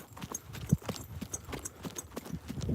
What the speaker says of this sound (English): So this is my horse LT.